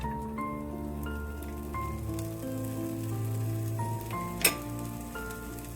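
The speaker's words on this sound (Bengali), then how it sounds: "তেলটা গরম হয়ে গেছে প্রথমে আমি এর মধ্যে গোটা জিরে দিয়ে দিচ্ছি ফোড়ন হিসেবে" Whole cumin seeds sizzle in hot oil for tempering, a steady soft crackling hiss under sustained background music, with one sharp louder pop near the end.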